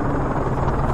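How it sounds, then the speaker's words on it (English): An enemy helicopter approaches in a Call of Duty game, its rotor a loud, continuous low thudding drone filling the brief moment. "Enemy chopper closing on your position."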